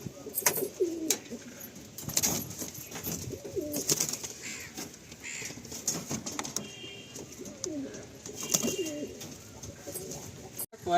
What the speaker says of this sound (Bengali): এই একটা নর পায়রা দেখুন।